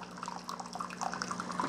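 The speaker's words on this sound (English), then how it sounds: "There's how the water should be coming out." Hot water trickles and splashes from an Instant pod coffee and espresso machine, a faint steady stream over a low mechanical hum.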